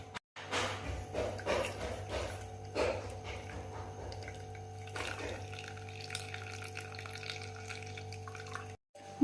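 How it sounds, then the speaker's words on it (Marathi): Boiled tamarind water for pani puri is strained through a sieve, giving close, continuous splashing and trickling with a few sharper pours near the start. "हे पाणी आपण आता या चाळणीतून गाळून घेऊया।"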